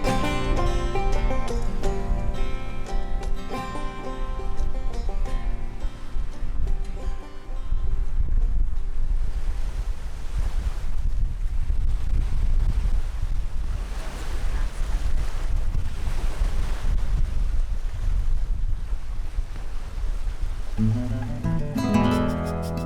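Steady roar of ocean surf and wind along the Gulf of Mexico coast, a dense continuous wash with strong wind buffeting on the microphone, heard alone without voices.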